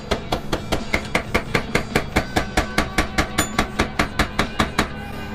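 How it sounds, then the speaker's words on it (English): A metal punch is struck with a hammer to drive a greasy axle out of a Suzuki DR350 motorcycle wheel, about two dozen sharp, evenly spaced metallic blows ringing close by and loud, with no talk. "I guess I'll just have to use this actual punch."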